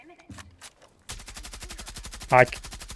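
Rapid automatic gunfire from a suppressed weapon in Rainbow Six Siege, a steady stream of evenly spaced shots running for about two seconds, loud and close, with brief talk heard before it starts.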